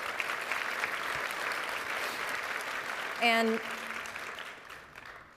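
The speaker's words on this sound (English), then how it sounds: "Let's clap it up for that." Steady audience applause fills a session at SXSW 2024, a dense even clatter of many hands with a brief spoken word breaking through partway.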